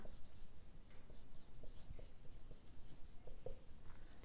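Soft, steady scratching of writing on a board carries through a coordinate geometry lesson as a midpoint formula is written out, a faint continuous rasp with slight rhythmic strokes and a low room murmur, no speech.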